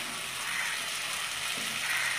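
Chillies and spices fry in hot oil in a pan while cabbage and rohu fish head are being cooked, giving a loud, continuous close sizzle with no voices.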